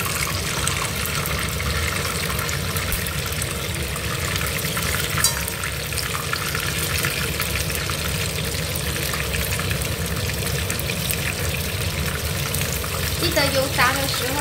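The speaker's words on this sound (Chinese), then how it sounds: "我们把第一轮的酿豆腐呢炸起来了" Stuffed tofu deep-frying in hot oil over medium heat gives a steady, dense crackling hiss that runs evenly throughout, close and moderately loud, with no speech.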